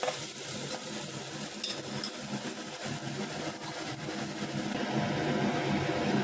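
Chicken biryani masala fries in hot oil as mustard seeds go in, giving a steady, fairly loud sizzle with stirring scrapes throughout and a slightly rising crackle toward the end.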